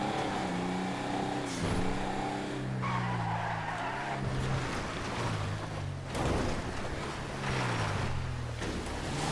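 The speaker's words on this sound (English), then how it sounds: "we have water. And we can drive across." A Vapid Sandking off-road truck in Grand Theft Auto 5 drives through water, its engine droning and shifting pitch steadily while splashing and rushing water noise wash over it.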